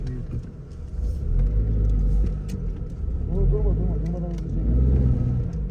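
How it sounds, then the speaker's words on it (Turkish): A car straining and revving on a rough village road as its tyres slide, a continuous loud low engine rumble rising and falling throughout, with people talking over it. "araba kaydı"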